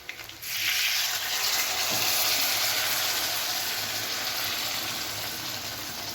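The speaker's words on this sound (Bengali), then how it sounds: "এবার এতে আমি উষ্ণ গরম জল দিয়ে নেব" Warm water poured into vetki fish bones frying in spice masala, a loud steady hissing sizzle that starts abruptly and holds throughout, slowly easing off toward the end.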